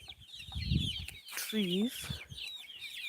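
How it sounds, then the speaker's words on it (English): Roadrunner chickens clucking on a farm, with several short clucks and a rising-falling call over chirping birds in the background and someone talking briefly. "So these are roadrunner chickens."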